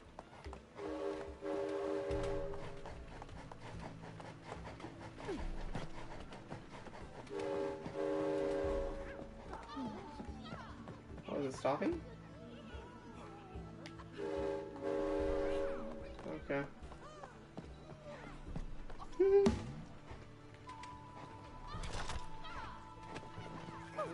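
A train in the video game It Takes Two rumbles along with repeated horn blasts and game sounds, while players talk over it.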